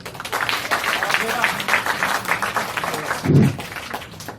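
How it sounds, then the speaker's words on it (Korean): Students at an agriculture lecture give a round of applause, a dense continuous clatter of many hands, fairly close and loud, with a brief voice near the end. "박수 한번."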